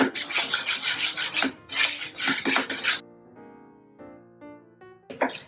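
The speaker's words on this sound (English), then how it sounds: "And now just mix it all together." Banana bread batter mixed by hand in a bowl, a utensil rasping and scraping in quick rhythmic strokes for about three seconds, followed by a quieter stretch with a steady tonal hum before the scraping briefly returns.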